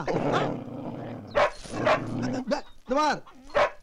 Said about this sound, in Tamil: ஓவரா குலைக்கிற ஆள் பார்த்து குலைக்க சொல்லிட்டேன் நானு